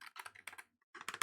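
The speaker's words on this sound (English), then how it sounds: "This is the sound of the spacebar." Repeated presses on the spacebar of a Nuphy Air75 low-profile mechanical keyboard with red switches, a handful of close, sharp clacks in two bursts separated by a brief silence.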